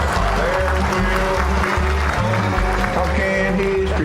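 Audience applause at the end of a live performance, steady clapping under a low, pulsing musical or rumbling tone that continues throughout, with no clear speech.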